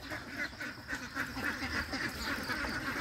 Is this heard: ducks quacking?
yes